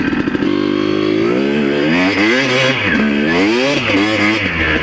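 A trail motorcycle revs and drifts through corners, its engine rising and falling in quick sweeps as the throttle opens and closes, loud and close.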